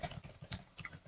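A computer keyboard clatters as a search query is typed, a quick run of several close, soft key taps in a steady rhythm over about a second.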